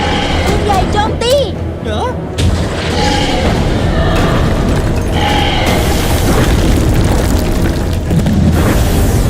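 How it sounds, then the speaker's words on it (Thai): Cannon fire booms repeatedly through a dense, loud mix, heavy explosions rolling under excited voices and constant background noise. "ปืนใหญ่โจมตี"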